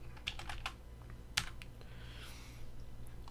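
A short burst of keys being typed on a computer keyboard while entering ipconfig at a command prompt, quick close clicks followed by a single sharper keystroke, faint over a low background hum.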